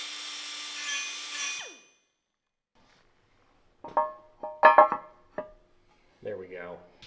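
Power tool deburring metal parts for a Jeep Wrangler TJ, a steady whine for under two seconds that spins down, followed by short bursts of someone talking.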